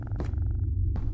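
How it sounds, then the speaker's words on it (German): A cat purring inside the video game Lethal Company, a steady low rumbling purr running throughout, with two short brighter bursts of game noise layered over it. "Das ist eine Katze."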